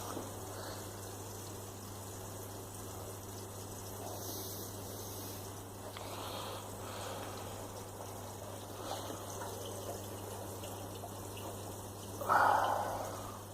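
Water drips and trickles inside a Grainfather brewing system while brewing an English IPA, a faint steady flow under a low electrical hum, with a slightly louder splash near the end.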